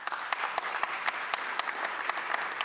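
Audience at a film-industry fireside chat claps steadily, a broad, even wash of many hands with sharper individual claps popping through, fairly soft and without speech.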